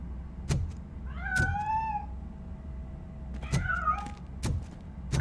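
A cat meows twice in the RoboCop video game, each a rising, drawn-out cry separated by a pause, with sharp thuds and knocks around them in a quiet room tone.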